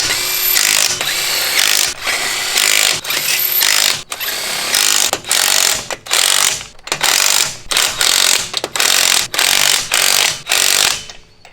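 An impact wrench or power tool drives and torques bolts on a Ford F250 radius arm lift kit, loud and close, with a long continuous whir followed by a series of short repeated bursts.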